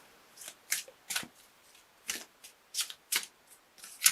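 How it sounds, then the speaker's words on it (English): Cards from an Archangel Michael oracle deck by Doreen Virtue being shuffled, giving a series of quiet, crisp riffling bursts at an irregular rhythm, close up with no talk. "I'm going to pull an Archangel Michael card for you for a little bit more information."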